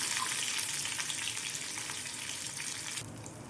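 Ground onion chutney sizzles and crackles in hot oil with mustard seeds and curry leaves, a steady, bright frying hiss that softens near the end.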